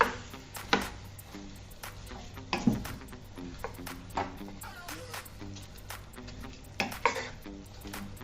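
Fried beef with pepper and onion stirred in a pan through oyster BBQ molasses sauce: steady soft scraping and clinking of a utensil against metal, with light taps and a low sizzle, close but fairly quiet.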